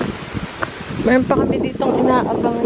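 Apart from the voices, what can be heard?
strong wind outdoors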